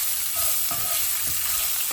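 Bitter gourd rounds being stirred in a hot pan of oil with tempering spices and salt: steady close sizzle with a few scraping stir strokes around the middle, no voices.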